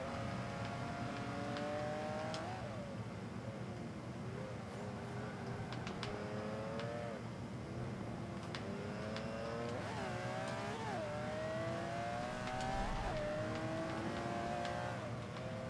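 A Ferrari GTO races a lap in the Forza 5 video game, its engine revving up and down through gear changes with rising and falling whines, alone and fairly steady in level.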